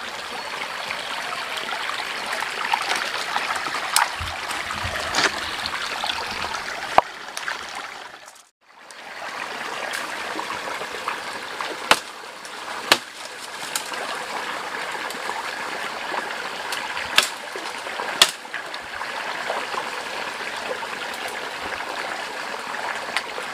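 A clear mountain river at the foot of Mount Papandayan in Garut flows steadily in a broad, continuous wash of rushing water, close by, with a few sharp knocks and a brief dip midway.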